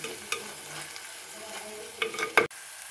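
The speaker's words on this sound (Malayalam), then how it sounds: "നമ്മൾ ആദ്യമേ ചതച്ച് വെച്ചിരിക്കുന്ന കൊച്ചുള്ളിയും പച്ചമുളകും ഒക്കെ ഇല്ലേ അത് നമുക്ക് ഇതിനകത്തോട്ട് ഇട്ടിട്ട് നമുക്കിതിൻ്റെ പച്ചമണമൊക്കെ ഒന്ന് മാറ്റിയെടുക്കാം" Crushed shallots and green chillies frying in hot oil, heard as a quiet, soft sizzle with occasional stirring scrapes, a louder clatter near the end, then a sudden cut to near silence.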